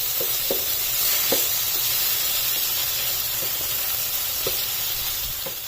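Spices such as red chilli flakes and coriander powder being stirred into mutton for jalfrezi in a pan, a steady loud sizzle with a few soft scraping stir strokes, no talking.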